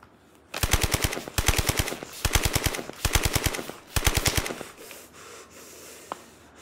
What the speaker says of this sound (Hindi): गन की आवाज कहां से आई है?